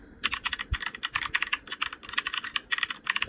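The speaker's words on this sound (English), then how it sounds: "Yes, we do, because it's all typewriter." Typewriter keystroke effect added in a CapCut edit, a dense run of sharp mechanical clacks in quick irregular bursts, loud and close with no voices.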